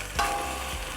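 Durian catfish sagak is stir-fried in a hot pan, with a sharp stirring scrape followed by a continuous close sizzle of fish and ingredients frying.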